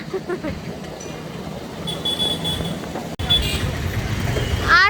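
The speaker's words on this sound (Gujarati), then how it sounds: "છે આપણા પોરબંદરના મેળાની ટ્રાફિક" Busy road traffic around the Porbandar fair on a rainy Sunday, a steady close rumble of vehicles with a few horn toots and brief higher squeals, with people talking.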